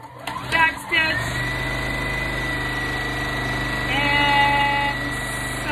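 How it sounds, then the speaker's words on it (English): Juki 2010Q sewing machine running a straight seam along a quarter-inch folded edge in quilting fabric, a steady close motor hum and rapid needle rhythm throughout, with a brief pitch change near the end. "And sew the straight line."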